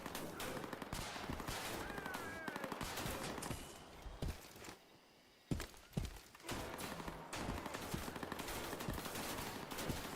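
Gunfire in the One Life military game, with bursts of machine-gun shots and rounds striking close beside a tank, dense and loud nearly throughout, dropping briefly around the middle before resuming.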